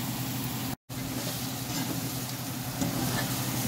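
Salmon pieces frying in a pan over slow heat, a steady close sizzle with faint stirring texture, constant throughout apart from one momentary dropout.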